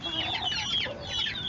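Chickens of a backyard flock cluck continuously at close range, overlapping in soft, busy bursts.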